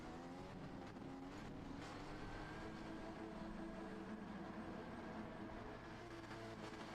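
Racing engines in a Gran Turismo 7 daily race at Laguna Seca, driven in a stock Genesis GR4, a continuous faint roar of the engine with whining harmonics, steady throughout with no pauses.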